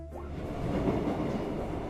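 Subway train effect from a Korean radio drama: a steady, loud rolling rumble of carriages on rails that holds evenly for about two seconds, with no voices over it.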